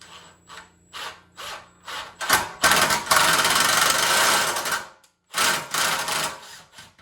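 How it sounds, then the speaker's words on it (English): Tap cutting and cleaning chrome slag out of bolt holes in a Celica smiley bumper: short rhythmic rasping strokes at first, then a long sustained grinding scrape, a brief pause, and more loud rasping, close up with no talk. "I'm just using this as a tap to clean these holes out."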